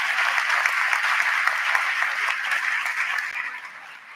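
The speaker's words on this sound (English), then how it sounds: "So please get a round of applause for Justin Wild." A high school convocation audience gives sustained applause, dense and even with a crowd-like texture, that gradually thins and softens over the final second.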